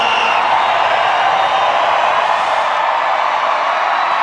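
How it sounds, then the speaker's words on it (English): Formula E crowd at the Mexico City E-Prix, a steady, dense roar of cheering fans that holds evenly throughout without breaks. "Fantastic crowd here."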